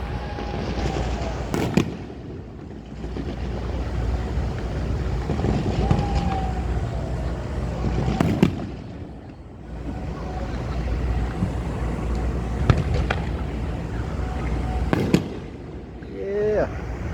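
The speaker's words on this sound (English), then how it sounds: "We're shooting straight mortars." Straight fireworks mortars fire off outdoors at a celebration in a run of sharp, booming launches, several loud reports spaced a few seconds apart, with a constant wind-like rumble and people talking in between.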